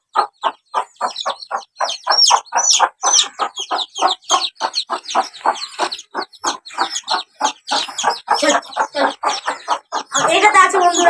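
Chickens on a farm clucking up close in a rapid, steady run of short repeated calls, with a rougher burst of noise in the last second.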